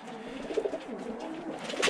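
Birmingham Roller pigeons cooing nearby in a loft, soft low coos repeating in short bursts against quiet rustling, with no talking.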